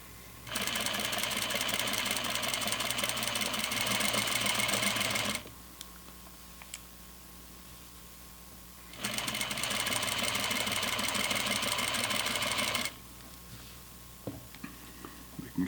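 A sewing machine stitching the pocket seam of flannel pajama pants, running in two steady bursts of rapid, even clatter separated by a pause of low hum.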